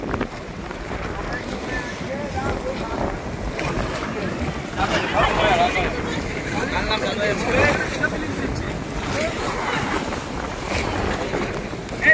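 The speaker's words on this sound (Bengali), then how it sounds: "বৃষ্টি আছে বৃষ্টি ঢেউ হচ্ছে দীঘার মতন ঢেউ হচ্ছে" Steady rushing of waves in the rain in the Sundarbans, with gusty wind buffeting the microphone, a continuous broad wash of noise with surges rising and falling throughout.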